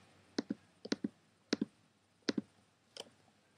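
A computer mouse clicks while a frame is copied in Adobe Flash CS5.5, about ten crisp clicks, mostly in quick pairs with short gaps, close and alone.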